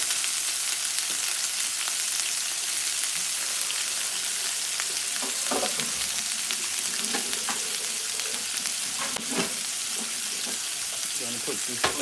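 Shrimp frying in a pan for shrimp chow mein, a steady close sizzle with occasional louder pops and crackles throughout.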